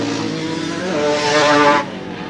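Speedway motorbikes racing in a 1984 semi-final roar past in a loud, rising-then-falling engine sweep that builds and cuts off sharply.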